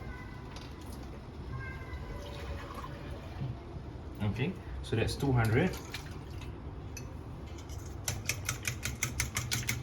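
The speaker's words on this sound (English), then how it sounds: "I need 300 mils of water here." Water trickles and pours into a measuring jug in a kitchen while preparing steamed egg with minced pork, a close liquid splashing and dripping that swells mid-way, with a person speaking briefly over it.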